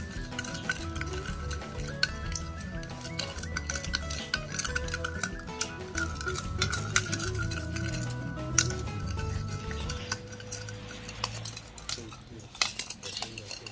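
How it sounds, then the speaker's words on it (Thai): Spoon stirring sugar into a shiitake mushroom sauce for stir-fried water mimosa, with repeated metallic clinks and scraping against the pot over a low background hum, steady and close. "เสร็จแล้วคนให้เข้ากัน"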